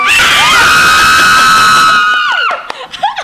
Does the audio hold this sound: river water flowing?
no